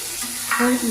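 Pre-fried chicken pieces hit hot spices in a pan for chicken kosha, a short close burst of sizzling and stirring that swells in the second half.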